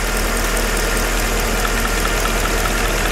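A Mercedes V8 engine runs at a steady idle on petrol, with a continuous, even rumble heard close up and no talking.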